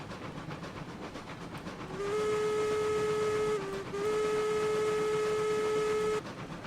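A steam locomotive whistle in the RailRoads Online game blows a long, loud, dry tone over hissing steam and rolling noise, briefly dipping mid-blast before resuming and then cutting off.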